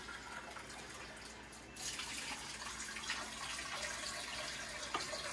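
Water pours into an Instant Pot sitting on a rack inside, a steady close splashing and trickling that starts abruptly and runs continuously at low level to the end.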